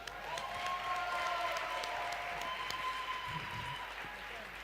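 Audience applause at an interactive photo session with a photographer, a steady broad wash of clapping that holds for several seconds with crowd noise and a sustained tone running beneath it.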